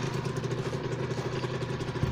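A freshly reassembled 125cc motorcycle engine idles steadily close by, a rapid even putter with a light mechanical clatter.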